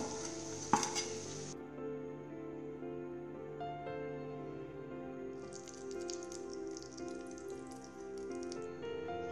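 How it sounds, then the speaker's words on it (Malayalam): Chicken cutlets fry in a pan with a quiet, steady sizzle. One sharp crackle comes early, and a brighter hiss swells again later. No one speaks. "ഇപ്പോൾ ഒരു സൈഡൊക്കെ ഫ്രൈ ആയി, ഞാനിപ്പോൾ തിരിച്ചു ഇട്ട് കൊടുത്തിട്ടുണ്ട്"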